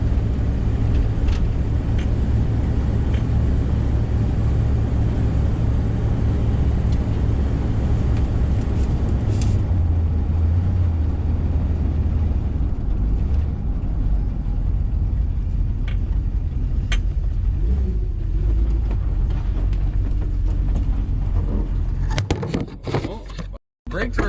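A camper van labors uphill, its engine a steady low rumble that holds close and loud for most of the stretch before cutting into brief knocks and a dropout near the end.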